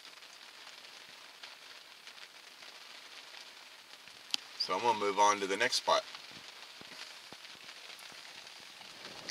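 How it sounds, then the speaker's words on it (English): Rain patters softly and steadily on a parked car along a trail, a faint continuous pattering with scattered drops, and someone speaks briefly in the middle. "but I don't think it's going to quit raining anytime soon."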